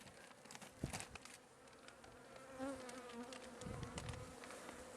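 Honey bees buzz steadily around an opened hive while two colonies are being joined, a dense, continuous hum with scattered louder passes near the microphone and gusts of wind beneath.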